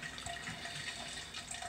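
Hot water is fly-sparged over a grain bed while brewing a NEIPA beer, giving a steady close trickle and splash that runs continuously with no talking.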